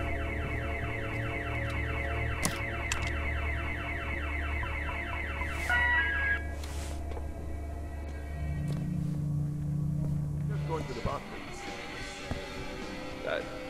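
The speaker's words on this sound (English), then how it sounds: "Who set this alarm off?" A security alarm rings in The Occupation video game, a steady repeating electronic warble that holds for several seconds over a low hum, then shifts to a different tone before fading amid ambient noise.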